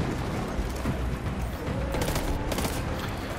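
A Forge burst gun in Destiny 2 fires quick repeated bursts with the trigger pulled as fast as possible, making a dense, continuous clatter of shots over game effects.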